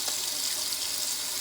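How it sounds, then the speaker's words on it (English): Hands being washed under a running tap at a sink after rinsing off baking soda, a steady close hiss of flowing water with no talking. "I'm going to get my hands a good washing."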